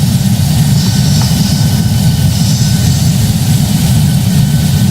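Boeing 737 jet engines roaring at takeoff thrust in the Project Flight video game, a steady, loud, low rumbling engine noise with constant broadband hiss and no talking.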